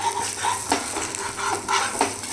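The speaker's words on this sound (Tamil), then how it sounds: "நம்ம அதை திருப்பி விட்டுட்டு சிம்மில் போட்டு ரோஸ்ட்டாக வேக வைக்கணும்." Wheat rava dosa cooking on a hot pan after being flipped and set to roast on low heat, giving a steady close sizzle with soft crackling bursts and no talk.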